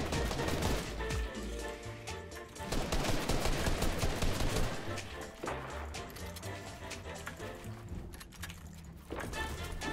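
Gunfire in the video game Fortnite, in a Creative deathrun map: dense bursts of rapid shots rattle on almost continuously at close range.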